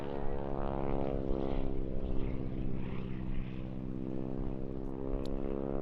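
Propeller aircraft performing aerobatics at an airshow, a loud sustained droning engine roar that swells and eases slightly as it moves, with no voices.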